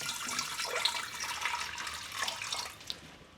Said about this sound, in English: we'll go ahead and fill this one up with some water